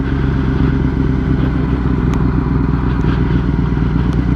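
A Kawasaki ZX10-R motorcycle rides with a group of bikes, its engine giving a loud, close, steady rumble with a few faint clicks and knocks over it.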